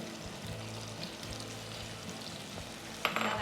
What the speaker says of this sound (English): heat up some oil and throw in some onion and some garlic